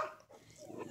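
A big dog gives a short, brief vocal sound, fairly quiet and close, in a room indoors.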